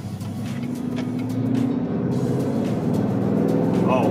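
A GMC Sierra AT4 pickup with its 6.2L V8 and an S&B cold air intake drones steadily from inside the cab, a low engine rumble rising a little in level as the truck pulls away at light throttle.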